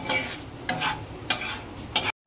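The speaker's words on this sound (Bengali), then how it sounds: "তেজপাতা আর গোটা গরম মশলাটা দিয়ে তেলের মধ্যে একটু নাড়াচাড়া করে" Bay leaf and whole garam masala frying in hot oil as a spoon scrapes the pan in four distinct stirring strokes over a low sizzle, close and clear, ending abruptly.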